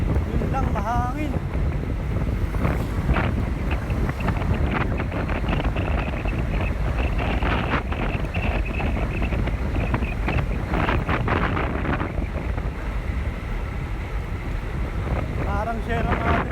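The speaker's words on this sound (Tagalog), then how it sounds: "Yun lang, mahangin." Strong wind buffets the microphone during a solo bike ride on Tayak Hill in Tanay, a loud, steady roar that fills the whole stretch without letup.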